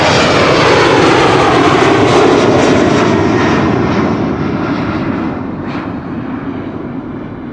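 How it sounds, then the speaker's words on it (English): A Boeing 747-8 jet departs from the center runway at Amsterdam Schiphol Airport, its loud, steady engine roar filling the air and then slowly fading as the aircraft climbs away. "we are going to see a departure of a 7478 pretty soon from the center runway."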